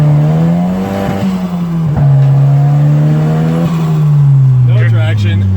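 Big turbocharged Volvo drifting through snow, its engine droning loud and steady with a sustained rising and falling rev that stays close and continuous throughout, with a brief tire or wheelspin flutter near the end.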